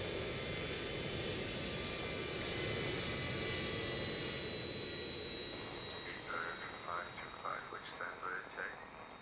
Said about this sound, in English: So the aircraft is relatively loud for a jet.